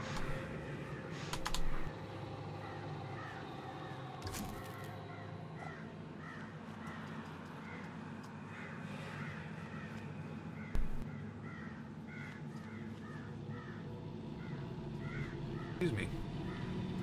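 Crows caw repeatedly in a forest setting in the Planet Coaster video game, a series of rhythmic mid-distance calls over a faint ambient bed, with a few clicks and keyboard-like taps and occasional talking.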